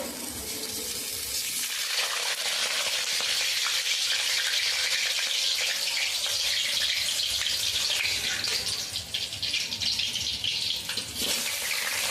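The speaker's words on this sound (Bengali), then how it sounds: "তেলটা গরম হয়ে গেছে আমি আলু আগের থেকে কেটে রেখেছিলাম এখন আমি ভেজে নেব আলুটাকে" Pre-cut potatoes, soaked in turmeric water, fry in hot oil for mutton biryani, a loud, dense, continuous sizzle and crackle that hisses steadily at close range.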